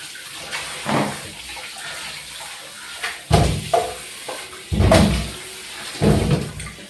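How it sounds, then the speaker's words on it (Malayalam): Cleaned cassava pieces are washed in water by hand, with several short splashing and sloshing bursts at irregular intervals, close and moderately loud. "ചീനി മൊത്തവും വൃത്തിയാക്കി എടുത്തിട്ട് നമ്മൾ കഴുകിയെടുക്കാം"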